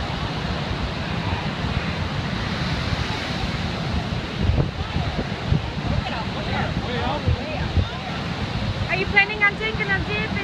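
Ocean waves breaking along a shoreline, heard as a continuous rough wash of surf mixed with gusty wind buffeting the microphone, with occasional louder surges and a few brief background sounds.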